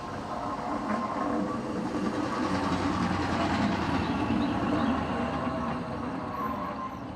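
A hi-rail vehicle rolls along railroad tracks toward Parkwood Junction, a steady rumbling drone with faint rail clatter, continuous and moderately distant.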